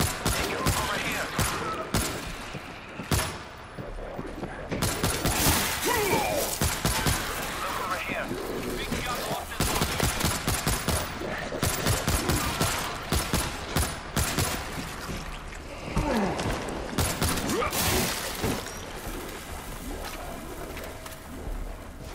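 Rapid bursts of machine gun fire from a video game battle, loud and dense with repeated volleys and cracks over a steady rumble of other game sounds throughout.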